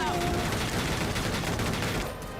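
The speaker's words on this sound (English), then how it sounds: "look at everybody helping us shoot" Rapid gunfire from a squad of soldiers shooting together in the war strategy video game Valkyria Chronicles 4, a dense, continuous volley of overlapping shots at steady loudness lasting a couple of seconds before easing slightly.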